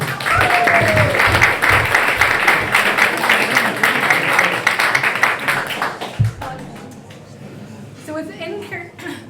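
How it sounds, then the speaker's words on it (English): Applause from a debate audience fills the first six seconds, dense clapping under crowd noise and voices, then fades into scattered claps and talk. "Round of applause for Elena."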